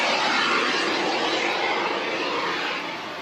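Trainer drone flying over the coast of Zambales during a military exercise, a loud steady broadband engine drone that holds constant, then eases off slightly at the end.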